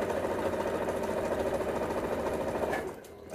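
A sewing machine chain pieces jelly roll quilt strips end to end in a steady, fast mechanical whir that runs close and even, then slows and stops near the end.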